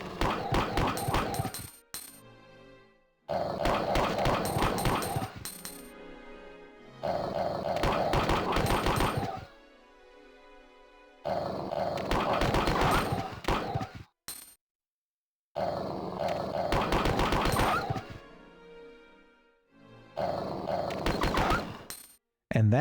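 Zombie dogs are gunned down in Resident Evil 2, with loud bursts of gunfire mixed with snarling and growling, coming in repeated heavy bursts broken by brief silences.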